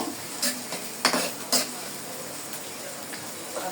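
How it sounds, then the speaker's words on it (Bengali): Chopped onion and green chili fry in a wok, giving a soft sizzle broken by a few sharp clinks and scrapes of stirring utensils against the pan. "কড়াই বসে দিয়েছি পেঁয়াজ কুচি এবং কাঁচা পালি দিয়ে দিয়েছি এখন আমি এদিকে একটু ভালো করে ভেজে নিব"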